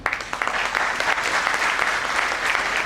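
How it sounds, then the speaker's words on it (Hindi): An audience at a network marketing training seminar breaks into loud, sustained clapping that fills the room evenly from start to finish. "बजा ले बहन, ताली बजा ले"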